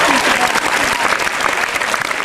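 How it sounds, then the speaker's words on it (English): Loud, dense applause from a high school audience at an improv comedy show, a continuous close wash of clapping hands with crowd noise underneath. "Let's give a round of applause, ladies and gentlemen"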